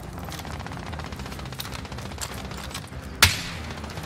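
Distant, rapid gunfire crackles steadily through a shooter video game match, with one sudden sharp, loud shot standing out near the end.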